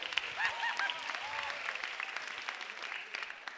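Audience clapping at a comedy show, a sustained patter of applause at moderate distance with faint voices mixed in.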